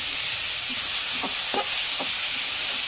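Cabbage stir-frying in a pan gives a continuous bright sizzle and hiss with faint scraping touches from stirring. It runs steady and close throughout, with no talk over it.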